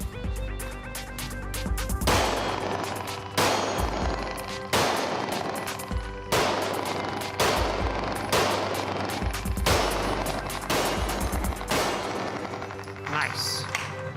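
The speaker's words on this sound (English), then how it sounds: "Let's do 3 shots on all 3 targets." Gunshots fired at three shooting targets on a training range, a run of loud, sharp reports in several bursts spaced about a second apart, close and dominant throughout the stretch.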